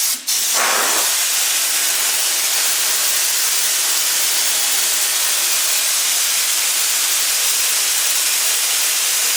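A Champion air compressor emptying its tank gives off a loud, steady hiss of escaping air that runs without a break for about nine seconds after a brief thump at the start.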